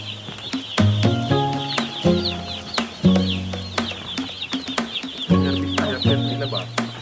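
A crowd of chicks peeping constantly in high, overlapping chirps, close and fairly loud, with occasional deeper clucking tones underneath, at a chick delivery.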